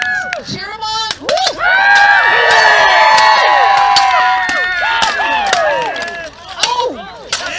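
Cheering and whooping from a crowd of spectators at a knights' sword fight at a Renaissance fair, loud and sustained for several seconds, with sharp shouts, an announcer-style voice and a few clacks mixed in.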